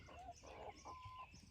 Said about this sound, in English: hens and rooster